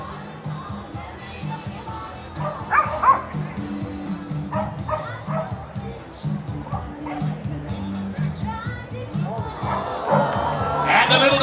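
Several yapping barks from a small dog ring out over a murmuring crowd at the Sydney Royal Easter Show, with people talking throughout and the noise swelling near the end.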